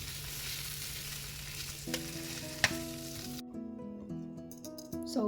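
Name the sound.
steak frying in butter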